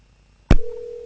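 A telephone rings out on a call during a live TV phone-in: a sharp click, then a steady, sustained ringing tone that continues evenly to the end.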